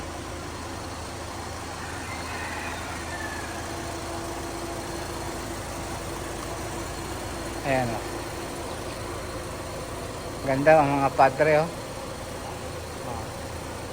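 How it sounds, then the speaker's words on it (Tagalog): A 2015 Suzuki Jimny 4x4 with about 60,000 miles on it idles quietly. Its low, steady hum runs under a voice, with a few louder bursts near the end. "Pati makina tahimik na tahimik pa siya."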